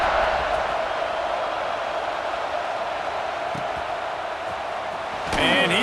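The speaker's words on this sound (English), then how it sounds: "this crowd is feeling themselves after that last drive." Stadium crowd noise in EA Sports College Football 26 during a kickoff, a steady dense roar of cheering that holds evenly before a brief burst of game sound at the end.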